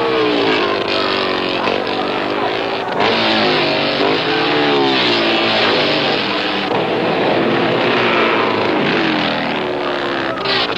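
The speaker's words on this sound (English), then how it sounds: "35, Bill Burkholder, right behind Bill Sharpless, 65, has been trying to overtake him lap after lap" Race cars roar around a track in a dense, sustained wall of engine noise, with revs swelling and dipping as the cars battle for position lap after lap, loud and continuous and without any clear talk.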